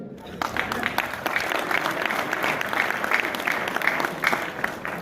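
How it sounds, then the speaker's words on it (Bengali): An audience at an Elite Venture event applauds steadily to welcome guest GK Russell, continuous clapping from many hands held at an even level for about five seconds. "প্লিজ ইচ অ্যান্ড এভরিবডি করতালি হবে"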